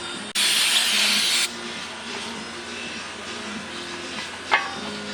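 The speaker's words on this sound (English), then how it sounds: "we're gonna just use the brake cleaner and then get them looking all nice so that we're not painting over dirt" Aerosol brake cleaner sprayed onto the drilled and slotted brake rotors of an E92 BMW, one steady loud hissing burst lasting about a second, followed by faint background clatter and a short spritz.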